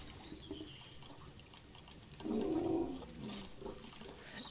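A waterfall flows in the Planet Zoo zoo-building game, a soft rushing wash that swells briefly in the middle, with birds cooing faintly in the background.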